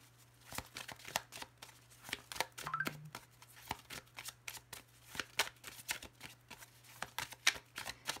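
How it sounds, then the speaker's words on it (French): Tarot cards being shuffled by hand in rapid, repeated riffling bursts with crisp snapping flicks, close and fairly clear, continuing rhythmically throughout over a faint low hum. "On a des cartes qui sautent toutes seules ici."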